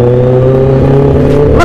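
A Yamaha RX-King two-stroke motorcycle engine revs hard and loud at close range, holding a steady high-pitched buzzing drone, with a sharper blip of throttle near the end.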